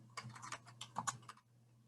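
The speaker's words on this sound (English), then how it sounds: "I'm going to say it while I'm typing it." Quick bursts of clicks from a computer keyboard being typed on, irregular and close, with a low steady hum underneath and the keys going quiet near the end.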